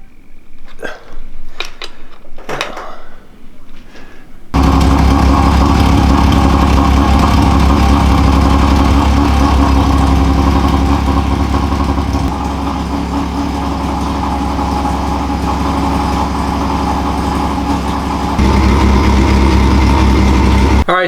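A NEMA Lite race car engine fires up after a few faint clicks and settles into a loud, steady, rough idle that runs without a break, close by.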